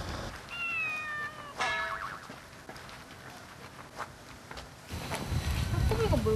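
A cat meows a few times outdoors on a street walk beside a dog grooming salon, faint and at a distance, with short rising calls set against traffic hiss and scuffing footsteps that grow louder near the end.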